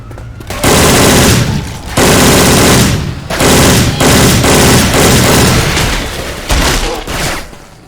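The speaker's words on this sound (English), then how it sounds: "Machine gun." Sustained automatic machine gun fire in Left 4 Dead 2 with a Syphon Filter weapon sound mod, loud dense bursts running almost continuously with brief gaps and heavy booming blasts layered in.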